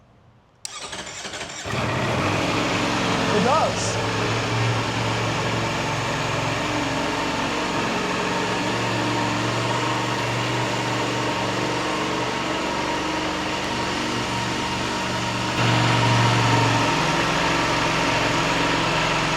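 A Ducati Panigale V4 Tricolore motorcycle engine cranks and fires up after a moment of quiet, then settles into a steady, throaty idle that holds for the rest of the clip.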